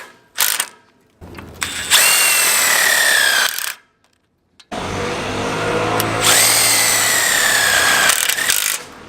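Power drill driving Tek screws through a railing bracket on a rooftop railing, two loud, close bursts of whirring and grinding, each several seconds long, separated by a brief silence.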